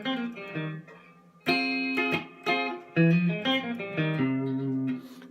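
An electric guitar plays the verse riff of a song, a run of clear, ringing picked notes and chord stabs at moderate volume. The phrases are broken by short pauses, with no voices.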